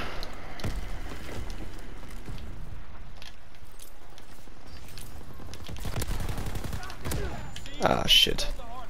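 Nambu Type 2 submachine gun firing in the zombie mode of Call of Duty: WWII, rapid shots and bursts mixed with game noise, moderately loud, with a sharper cluster near the end; someone talks over it.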